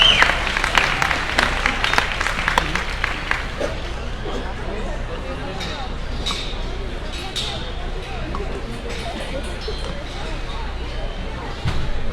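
Applause for champions at the 2019 Arizona National livestock show grand drive, a broad crowd clapping that is strongest early and then settles into a steady wash, with an announcer speaking over it.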